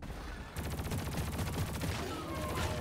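Electric weapon fire in Deep Rock Galactic, an EM discharge build: a sudden dense burst of rapid crackling shots starts after a brief lull and keeps rattling loudly and continuously, with a faint zapping whine near the end.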